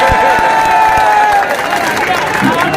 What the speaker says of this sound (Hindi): ऐसे रसूखदार नेता के लिए जोरदार तालियां